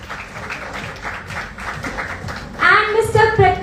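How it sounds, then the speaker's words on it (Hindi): An audience at a Bhojpuri film launch event bursts into applause near the end, after a stretch where someone speaks over faint background noise. "प्लीज जोरदार तालियां"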